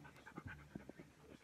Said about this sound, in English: I'm babysitting their dog.